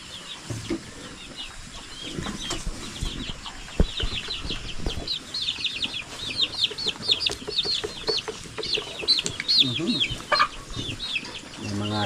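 Chickens and young chicks on a Filipino farm cluck and peep in a busy, overlapping chorus, with sharp higher calls scattered throughout and soft background noise, no talk.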